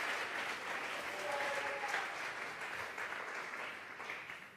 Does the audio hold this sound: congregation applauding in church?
yes